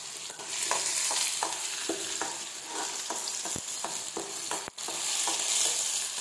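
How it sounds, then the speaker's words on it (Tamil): Shallots and fennel seeds sauté in a kadai, a soft steady sizzle broken by a regular series of scraping stirs from a spoon against the pan, close and fairly quiet with no talk. "இந்த கடாயில் பார்த்தீங்கன்னா சின்ன வெங்காயம், பெருஞ்சீரகமும் நல்லா வதக்கணும்."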